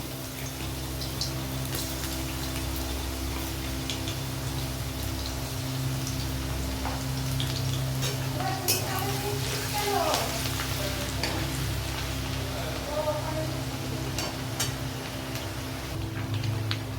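Garlic dropped into hot oil in a kadai, frying with a continuous dense crackling sizzle like steady rain, close and even throughout.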